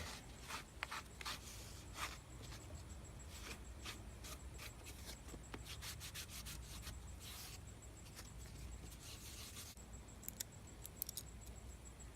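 A damp rag wiping over a leather knife sheath: scattered soft rubs and light scuffing strokes with a few small clicks, close and quiet, with no talking.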